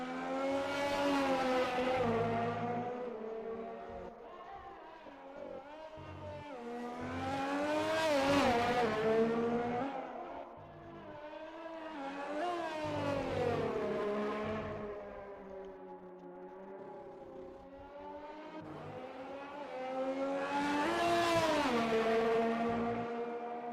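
Onboard race car engine from a racing game, a driver on a second run on medium tires around Hungary, revving loudly and continuously with rising and falling pitch through gear changes and corners, no talk.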